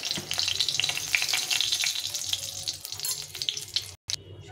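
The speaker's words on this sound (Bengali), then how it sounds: "এখন আমি এর মধ্যে দিয়ে দেবো শুকনো লঙ্কা" Dried red chillies frying in mustard oil in a wok give a close, steady sizzle with sharp crackles and occasional stirring scrapes, cut by a brief silence near the end.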